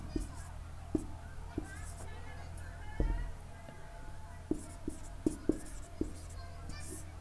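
Hand writing a chemical equation, with soft scratching strokes and light taps spread irregularly over several seconds beneath a low background hum.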